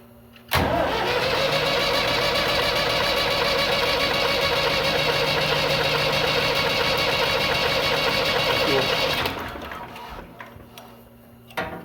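A Case 1194 tractor's diesel engine cranks with a grinding whir, running loud and close for about nine seconds after its injectors are bled, then dies away into quieter rattling.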